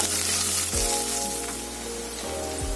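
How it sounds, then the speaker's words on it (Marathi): Chopped onion and green chili fry in a pan with a steady, close hiss of sizzling oil, continuous throughout and unaccompanied by talk, with a faint low hum underneath. "आता आपण कांदा घालूया त्यामध्ये, आणि मिरची पण आताच घालूयात आणि चांगलं फ्राय होऊन घेऊया त्याला"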